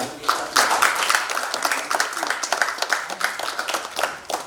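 Audience applause at a live program, a dense steady clatter of many hands clapping close by for several seconds.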